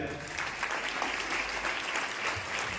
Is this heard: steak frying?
no